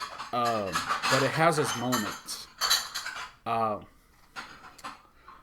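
Dishes and cutlery clink and clatter in the background while a person talks over the noise.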